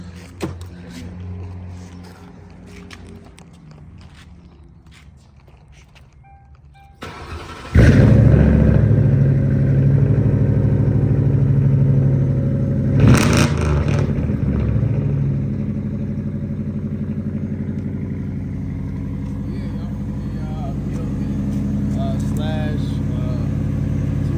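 A Honda car engine with a slipping transmission idles low, then surges into loud, sustained revving with a brief higher burst midway, staying close and steady afterward.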